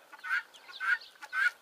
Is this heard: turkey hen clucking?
yes